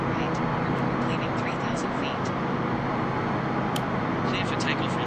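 A Flybe ATR 72 in a flight simulator game rolls for takeoff, its steady, loud propeller and engine roar filling the whole stretch without a break.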